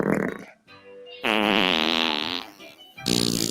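A synthetic, AI-generated fart sound played as a joke: a sustained, loud buzzing blat of about two seconds, flanked by brief bursts of other sound at the start and end.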